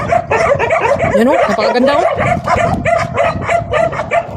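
A pack of large stray dogs in Saudi Arabia barks and yelps repeatedly in loud, close bursts while someone talks over the commotion.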